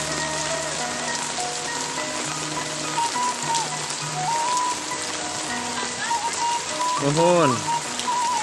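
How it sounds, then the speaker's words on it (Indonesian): Heavy rain pours down in a steady, dense hiss, loud and unbroken, with faint tonal voices or music drifting over it. "hujan sahabat Lemburu Paninengan, lebat sekali hujannya."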